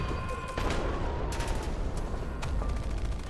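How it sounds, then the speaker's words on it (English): Gunfire in the video game Love and Deepspace, a rapid fusillade of shots over a dense rumbling background, loud and continuous with sharp bursts, no speech. "the gunshots, screams, and maniacal laughter fills my ears once more"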